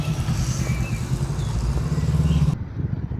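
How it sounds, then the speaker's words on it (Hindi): A gang of motorcycles passing on a village street near Esztergom, Hungary, their engines droning loud and steady throughout before cutting off abruptly near the end. "वाह, बाइकर्स की गैंग निकली हुई है।"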